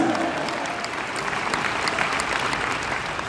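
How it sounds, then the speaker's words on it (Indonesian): A congregation at a revival service during a church congress in Batu breaks into loud, sustained applause and cheering that fills the room evenly from start to finish. "Somebody give Jesus a mighty shout."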